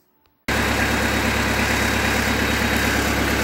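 A Kubota B3000 compact tractor engine settles into a steady, loud idle in a workshop, a low rumbling drone that starts abruptly after a brief quiet moment and runs on evenly with no talking.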